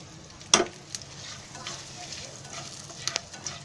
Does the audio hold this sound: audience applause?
no